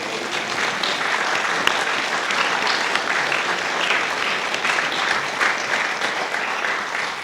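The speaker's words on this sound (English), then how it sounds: "Give him a round of applause." Steady, dense applause from an interview audience keeps up without a break for several seconds, a full room of clapping heard fairly close with no voice over it.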